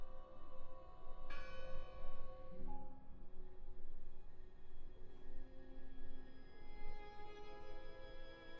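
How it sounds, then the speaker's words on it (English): A bell tolls in the video game Draugen, a resonant struck tone that rings out and decays over several seconds, with a second strike layering new overtones, heard alone against a low ambient rumble. "I heard the bell!"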